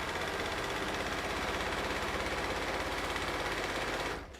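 A sewing machine stitches a bulky quilt seam in a fast, even mechanical rhythm close by, running continuously before stopping abruptly at the end.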